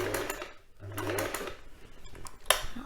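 Sewing machine stitching a quilt cover, its needle running in short bursts of rapid mechanical chatter with brief pauses between runs, close and fairly loud, with no talking.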